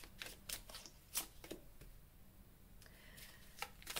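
Tarot cards drawn and laid out during a French reading, a scatter of sharp, quick flicks and slaps of card stock at uneven intervals, fairly close and light, with no talking.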